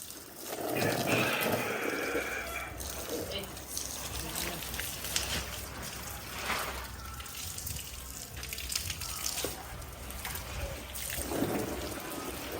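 Water sprays steadily while a scooter is washed, a close, hissing wash that swells and fades in bursts. A voice talks over parts of it.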